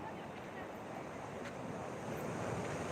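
Sea waves wash steadily beside a small boat house in Helen Nagar, a continuous soft surf roar mixed with wind noise on the microphone and no talking.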